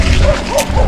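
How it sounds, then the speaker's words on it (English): A few quick, close dog barks and yips over a rumbling, noisy background, all within a brief moment, on a mountain bike ride near Brasso Seco village, Trinidad. "Watch out for the dogs."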